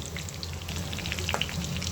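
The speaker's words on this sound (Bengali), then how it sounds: "আমি শুরু করছি মাংস ভাজা" Steady sizzling and crackling of beef for kebabs frying on a hot griddle, a constant hiss with small pops, no voices.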